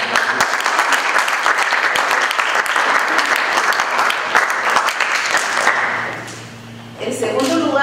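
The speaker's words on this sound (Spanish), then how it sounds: "Vamos a dar un aplauso." Audience applause at an award ceremony for advertising creativity and a theatre play, loud sustained clapping from a crowd that fades out near the end before a brief rattle.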